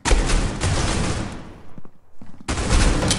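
Rapid gunfire in the mobile shooter Critical Ops, loud bursts of automatic shots that break off for a moment, leaving a few scattered pops, then return as a dense, sustained volley.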